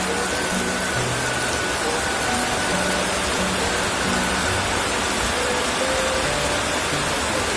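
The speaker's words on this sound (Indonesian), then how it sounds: "hujan angin teman-teman." Heavy rain driven by wind pours steadily over a livestock pen in the late afternoon, a dense, unbroken hiss of water with faint, muffled voices beneath it.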